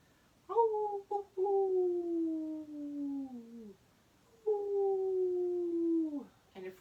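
Voices imitate a wolf howling at the full moon during a children's arctic-animal yoga pose: two long, loud, close 'ooh' howls, each sliding down in pitch, with a short gap between them.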